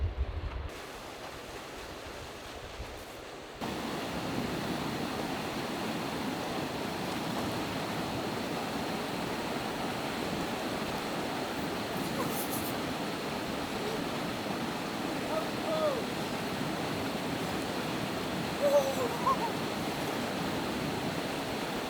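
A waterfall in a valley along the Everest Base Camp trek in Nepal roars as a steady, dense rush of falling water, loud and constant for the whole stretch with no voices over it.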